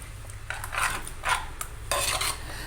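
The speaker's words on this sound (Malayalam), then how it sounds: "നന്നായി ഇളക്കി കൊടുക്കാം" A utensil stirs sardine fish curry in a pot, with close scraping and sloshing strokes in uneven bursts over a low steady hum.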